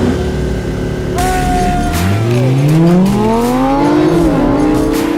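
A Lamborghini launches hard off the line in a drag race, engine roaring up through rising revs with a brief tire squeal at the start, loud and close, then shifting and pulling away.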